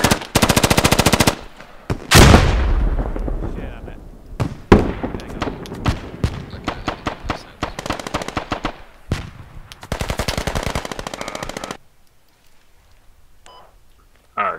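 Gunfire in the video game Squad, with loud sustained machine-gun bursts and single shots, rapid rattling volleys separated by short pauses and a heavy boom early on.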